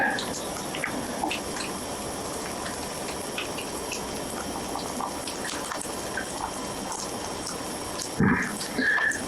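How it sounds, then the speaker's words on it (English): Water drips from a melting icicle indoors, a steady fine spatter over a constant wash of noise, with a louder burst of splashing near the end. "Watch it drip."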